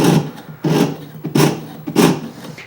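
A jeweler's saw blade cuts through metal in steady back-and-forth strokes, four rasping pulls close up and loud, with an even rhythm.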